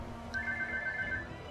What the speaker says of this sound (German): da klingelt das Telefon.